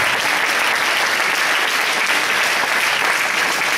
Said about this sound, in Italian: Fate un applauso a questi uomini che vogliono l'unità della Chiesa.